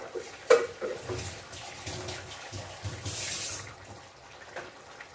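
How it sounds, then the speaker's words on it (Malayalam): Water sloshes and splashes in a jar as it is rinsed, then pours out in a short gush, close by and moderately quiet. "ജാറ് കഴുകി അങ്ങ് ഒഴിക്കാം"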